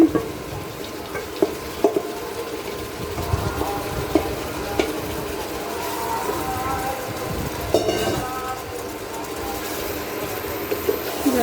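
Marinated goat head frying in spiced oil while being stirred, a close sizzle with scraping and clattering stirring strokes and a few sharp knocks, a voice talking over it.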